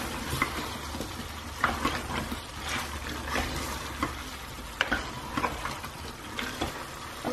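Beef and potato curry frying in a pot as it is stirred, with a steady sizzle and repeated scraping, clattering strokes of the spoon spread through the whole stretch, fairly close.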